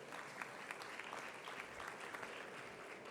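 Steady applause from a conference audience, a dense even patter of many hands clapping throughout, moderately distant and without voices on top.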